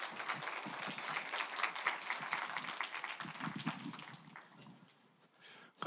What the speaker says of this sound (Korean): 하나님께 감사의 박수 올려드리면서 목사님 모시겠습니다